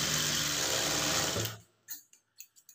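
A sewing machine stitching a blouse, running in a fast close whir for about a second and a half before stopping, followed by a few soft clicks and handling taps.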